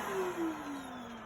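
A household vacuum cleaner hums steadily at a faint, even level, its motor pitch sliding slightly downward, with nobody talking.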